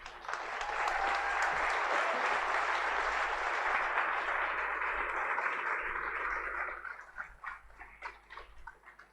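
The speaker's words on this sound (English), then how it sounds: "I'd like to take a moment for us to acknowledge their work with a round of applause." At an international school's Class of 2024 graduation, the audience claps for the faculty, a full, steady round of applause that swells quickly, holds for several seconds, then thins into scattered claps and tails off.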